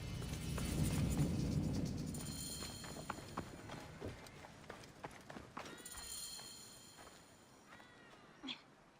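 Horses trotting in Assassin's Creed Origins, quiet irregular hoof clops moving along over soft ambient background, fairly faint and uneven.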